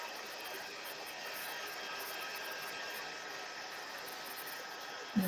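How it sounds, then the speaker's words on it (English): A heat embossing tool blows hot air in a steady, even hiss and whir that holds at a constant level, followed by a brief louder bump at the very end. "I'm sorry about the noise with the heat tool. I know it makes a lot of noise."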